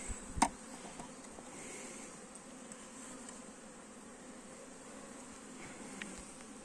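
Honey bees buzz in a low, steady drone during a hive check. The hum is close but fairly faint and stays constant, with a few light knocks and handling clicks near the start.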